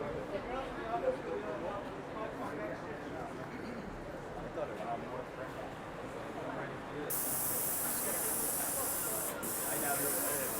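A Graco paint sprayer hisses steadily for several seconds, growing brighter and louder partway through, with faint voices murmuring in the background.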